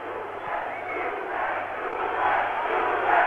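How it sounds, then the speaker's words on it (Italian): Italian fans shout and chant for Juventus away at Ajax's stadium, a dense roaring crowd that swells slightly toward the end, with a commentator's voice over it. "urlano il loro incitamento alla Juve"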